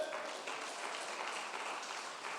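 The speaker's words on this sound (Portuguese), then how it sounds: "Bata as palmas para Ele." A church congregation claps together during a sermon, producing a steady, dense wash of applause that holds at an even level without letting up.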